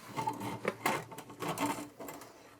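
Drain auger cable turning inside a pipe, a faint, close mechanical whirring and rattling that rises and falls unevenly over a few seconds, with no talk.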